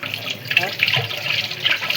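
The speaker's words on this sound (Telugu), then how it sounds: "అయితే ఇప్పుడు దీన్ని కడుక్కోవాలమ్మా" Tap water runs and splashes over a freshly peeled vegetable being washed in a kitchen sink, a steady close burble of flowing water with a faint voice underneath.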